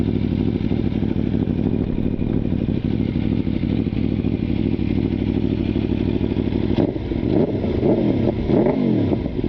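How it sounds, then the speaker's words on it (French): A 2017 Aprilia Tuono V4 Factory motorcycle idles loudly and steadily near the exhaust in a forest, then gives a few sharp throttle blips toward the end. "Non, mais ça fait un bon bruit, hein."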